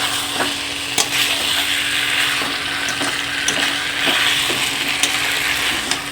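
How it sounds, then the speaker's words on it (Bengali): Spices with salt and turmeric being stir-fried in a pan, giving a steady loud sizzle with periodic scraping strokes of a spatula, close and continuous without speech. "নুন হলুদ তো পরিমাণ মতো দেওয়াই আছে, এবার একটু কষানো হবে ভালো করে।"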